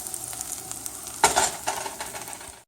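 Onions frying and browning in a pan for breakfast burritos, a steady low sizzle with a brief louder burst of stirring and clatter partway through, then settling back to a gentle hiss.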